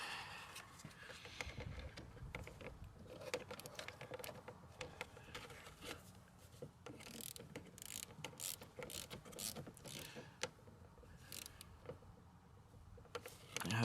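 Ratcheting and mechanical clicking of fasteners being tightened under the bonnet of a Hyundai i30 1.6 CRDI during a front headlight bulb change, steady close clatter with sharp ticks throughout, no talk.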